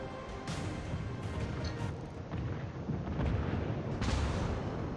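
Naval guns firing in the War of Warships video game, a dense, continuous roar of booming cannon blasts and rumbling explosions that stays loud throughout.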